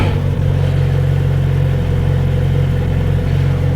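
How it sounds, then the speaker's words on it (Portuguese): A motorcycle engine idles loudly and steadily up close, a deep continuous rumble with no voices. "É muito brutal esta moto"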